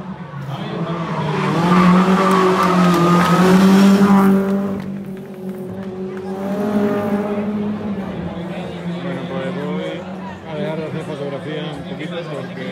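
A rally car races past on a stage of a rally time trial, its engine roaring loud and close as it sweeps by, then fading into a steady drone, with someone speaking Spanish over it.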